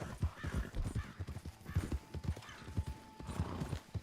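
Horse hooves clip-clop in a steady, close, trotting rhythm in the Red Dead Online video game, continuing for several seconds with a faint whinny-like tone partway through.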